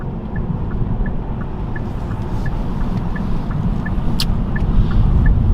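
Interior drone of a Genesis G70 twin turbo pulling into a dealership, a steady low road and engine rumble that grows slightly louder, with a regular soft ticking like a turn signal over it.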